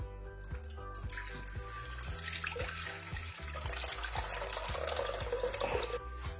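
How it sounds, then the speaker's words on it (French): Water is poured steadily into a bowl sitting on a kitchen scale, a continuous close splashing and rising gurgle that fills the kitchen with no talking. "On met 500 g d'eau dedans."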